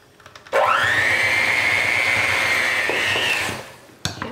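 An electric mixer creams butter and sugar for fruit pie bars, a loud steady whirring drone that starts abruptly, holds for about three seconds, then winds down, with a brief clatter at the end.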